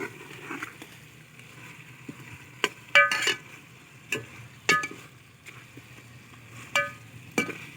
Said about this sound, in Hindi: इस चिकन को हम अभी मसाले में भून रहे हैं